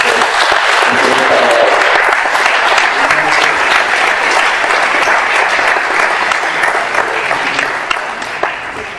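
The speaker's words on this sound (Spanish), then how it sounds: "yo creo que le damos un aplauso primero" Audience applause at a Spanish-language talk, loud, dense steady clapping filling the whole stretch and tapering slightly near the end, with no voices over it.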